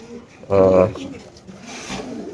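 Pigeons kept in a numbered cage coo in a short, loud burst of layered calls, followed by fainter murmurs from the birds nearby.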